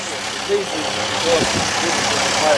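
A van engine idles with a steady low rumble, while someone talks over it close by.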